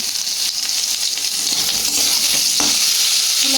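Pointed gourd (potol) slices frying in a pan give a steady, loud broadband sizzle with faint stirring clicks, continuous and close throughout, with no voices.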